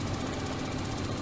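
A bus engine in the OMSI 2 driving simulator gives a steady, close, rumbling drone with a rough knocking texture, alone and unbroken throughout.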